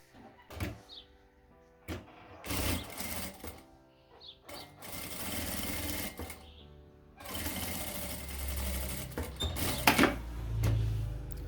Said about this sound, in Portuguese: vamos passar uma costura de segurança